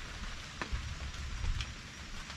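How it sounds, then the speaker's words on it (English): Steady rain falls on a freshly poured, broom-textured concrete slab built as a pad for a 500-gallon propane tank, a continuous soft hiss with a few louder drops and low rumbles. "And here comes more rain."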